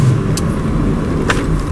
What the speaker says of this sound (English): let's check out the handling through a nice little S-bend